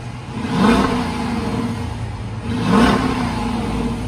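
2020 Dodge Durango R/T with the Hemi V8 on its stock exhaust, revved twice in quick blips that rise and fall back to a steady idle rumble, heard nearby with no talking.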